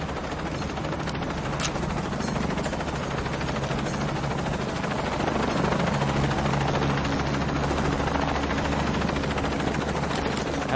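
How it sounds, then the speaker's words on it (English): A helicopter flies in the video game Shadow of the Tomb Raider, its constant rotor drone steady and loud throughout, with faint gunfire-like bursts mixed into the game soundscape. "Laura, I'm in a chopper."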